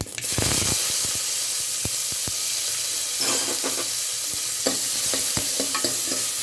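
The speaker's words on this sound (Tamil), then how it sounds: "கடுகு, ஒரு பிஞ்சு பட்டை பொரியட்டும். இப்போ வெங்காயம்," Mustard seeds, fennel and a piece of cinnamon crackle and fry in hot oil, with a steady sizzle and scattered sharp pops, then chopped onions go in and are stirred for a veg kurma.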